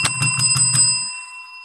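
A bicycle-style bell rings five quick times in a brisk burst, then its bright metallic tone lingers and fades away alone.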